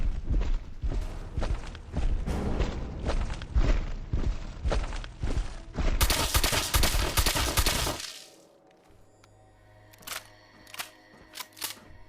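Gunfire in Fallout 4, including shotgun blasts, as a dense run of loud sharp shots over heavy game noise, which then drops to near quiet with a few isolated clicks and pops.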